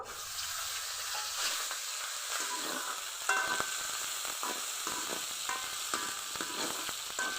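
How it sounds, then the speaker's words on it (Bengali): Green chillies and dried loitta fish frying in hot oil in a pan, a steady close sizzle broken by scraping stirring clicks throughout, with no talking. "তেল গরম হয়ে গেছে, এখন মরিচ আর শুটকি ভেজে নিব"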